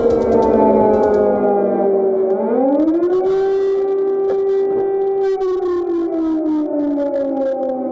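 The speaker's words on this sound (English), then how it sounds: "Air defense guns can be heard in central Kyiv shortly after air raid sirens were sounded." An air raid siren in central Kyiv drones steadily, its pitch dipping and then rising to a sustained howl, loud and continuous throughout.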